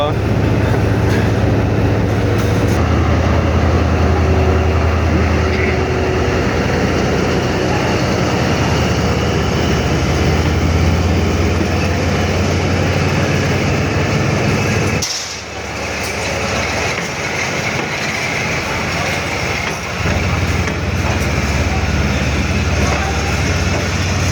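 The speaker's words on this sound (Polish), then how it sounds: "lokomotywa powoli, powoli rusza" A heavy, continuous rumble of a locomotive train in Vietnam getting underway and rolling along, loud and close, with a brief dip partway through before the noise carries on.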